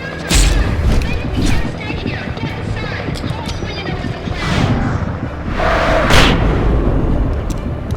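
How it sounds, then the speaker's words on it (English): Flashbang grenade explosions in Alan Wake Remastered, loud booming blasts that rise out of a rumbling background of game sound and combat noise, with a player talking at moments. "Trying to get the flashbang."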